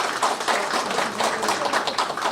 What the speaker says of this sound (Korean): 아, 박수 한번 박수 한번 부탁드리겠습니다.